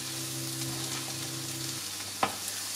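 Spices with smoked paprika and black pepper stirred in a pan, a soft even sizzle with a sharp spoon knock near the end, while a low steady hum carries through the first part.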